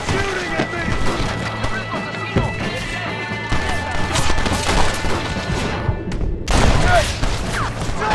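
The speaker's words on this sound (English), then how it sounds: "Stop shooting at me!" Gunfire in the Western video game Red Dead Redemption: a dense, continuous fusillade of shots and booming thuds, loud and close, with a steady low hum beneath and brief shouted voices mixed in.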